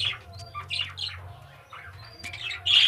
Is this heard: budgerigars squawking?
yes